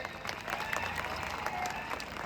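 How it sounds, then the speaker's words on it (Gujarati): A crowd at a political rally applauds to welcome the Gujarat state president, giving steady, dense clapping that runs unbroken for the whole stretch at a moderate distance. "એમનું આપણે તાળીઓના ગણગણાટથી એમનું આપણે સ્વાગત કરી લઈએ"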